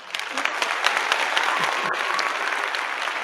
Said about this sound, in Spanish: vamos a darle un fuerte aplauso a Paloma Pájaro del canal Fortunata y Jacinta